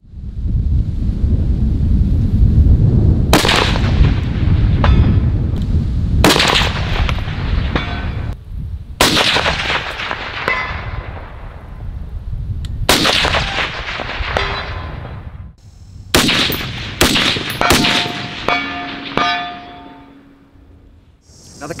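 Rifle shots ring out at a long-range shooting spot, about eight sharp cracks spaced a few seconds apart, each trailing a rolling echo, with steady wind noise on the microphone throughout.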